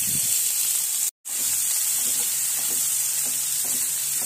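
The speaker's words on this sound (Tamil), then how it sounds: "வெங்காயம் நல்லா ஃப்ரை பண்ணியாச்சு" Thinly sliced onions frying with cloves in a pan for palak paneer, a steady close sizzle with a brief cut in the middle, alone.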